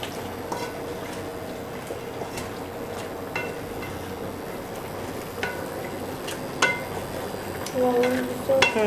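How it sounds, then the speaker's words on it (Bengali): A spoon stirs spices and black cardamom in a cooking pot, giving scattered scraping clicks and metallic taps over a soft background sizzle, fairly close and with no talking. "তারপর এখন আমি একটু নেড়ে দিব"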